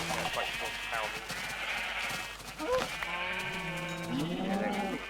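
Sheep in the Minecraft video game bleat repeatedly in short wavering calls, several overlapping at moderate volume, mixed with other game noises and some voice chatter in the background.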